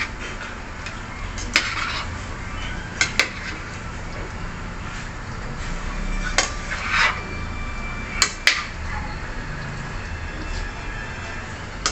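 Chicken caldereta with ketchup being stirred in a pot gives a soft, bubbling simmer broken by a few sharp metallic clinks of a utensil against the pot's side, spaced irregularly across the stretch.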